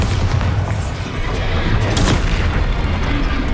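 A Bombarda spell explosion from Hogwarts Legacy gameplay, a dense, loud booming blast with rumbling low end sustained over a few seconds amid other combat sound effects.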